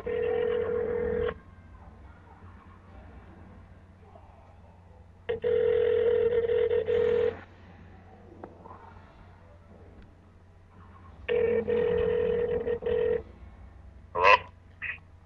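Outgoing call ringback tone on a telephone line, two long steady tone bursts several seconds apart, fairly loud, with a brief chirp near the end and no talking.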